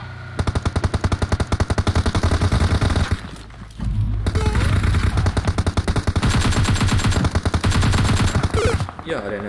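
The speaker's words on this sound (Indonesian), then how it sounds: "ada yang nembak dari jauh lagi" Loud, rapid automatic gunfire from PUBG Mobile, a battle royale game, rattles in dense, continuous bursts that stop briefly partway through and then resume just as heavy.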